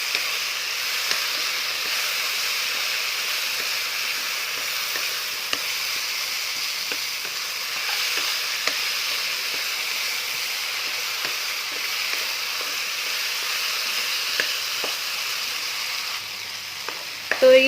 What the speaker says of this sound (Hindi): अच्छी तरह से इसे मिक्स कर लेना है।